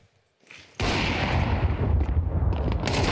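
Gunfire in a Counter-Strike match at a StarLadder Budapest Major: a loud burst of shots kicks in after near silence and keeps rumbling on, dense and close.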